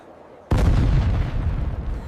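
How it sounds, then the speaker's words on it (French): A heavy artillery boom from siege cannon pounding fortress ramparts bursts in sharply after a brief quiet, then a loud, broad rumble lingers and slowly decays. "L'artillerie adverse martèle les remparts sans relâche."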